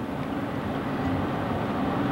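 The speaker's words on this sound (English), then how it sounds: "another one of them choo-choo trains headed to Cheyenne." A steady, broad rumble of a passing freight train, continuous and moderately loud, with no voices.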